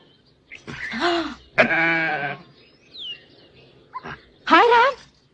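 Goat bleating in a 1990 family movie scene, several wavering, nasal cries spaced across the moment, close and clear, interleaved with a woman's excited speech.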